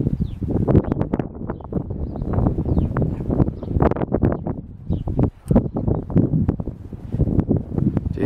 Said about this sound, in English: Now we've got a bit of a gust.